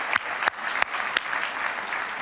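An audience at a tech presentation breaks into continuous applause, a full room of clapping with a few sharp nearby claps popping out above the steady crowd sound.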